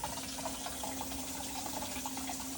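Water from a pottery studio clay trap drains through a pipe into a big bucket, a steady continuous gushing and trickling flow heard up close with no talking.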